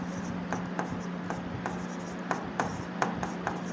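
A hand writes out a math equation for a Class 10 substitution-method lesson, a faint, quiet run of short regular scratching strokes with brief pauses between them.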